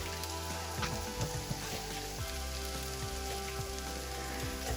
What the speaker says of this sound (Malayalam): അപ്പോൾ അതിനകത്തേക്ക് ഫ്രൈ ചെയ്തെടുക്കാം